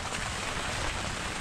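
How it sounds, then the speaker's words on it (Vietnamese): Steady rain falling at a fishing lake, a dense even hiss of drops throughout, fairly soft and uninterrupted, with no talking. "Thì hiện tại giờ trời cũng ăn mưa."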